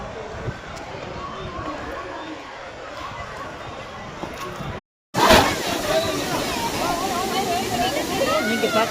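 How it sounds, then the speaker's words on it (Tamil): Water pouring steadily over Kodiveri Dam, low in flow, makes a continuous broad rushing wash with people talking under it; the sound drops out briefly near the middle, then returns brighter and louder. "நீங்கள் பார்க்குறது கொடிவேரி அணை."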